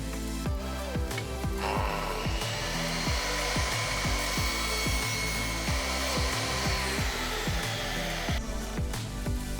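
Power tool cutting straight across wood trim while building a tiny house, a loud sustained whine with rapid rhythmic pulsing and a grinding edge, running steadily throughout.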